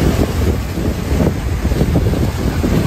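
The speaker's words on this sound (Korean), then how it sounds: "파도 소리가 장난 아니죠." Ocean waves surging onto the shore, a loud rumbling churn of water heavily buffeted by wind noise on the microphone, continuous with no voices.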